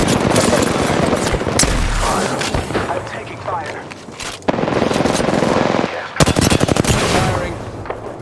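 Automatic weapon fire in the Apex Legends battle royale video game, long rapid bursts of shots with sharp cracks, loud and dense across the whole stretch with brief pauses, a voice speaking over it.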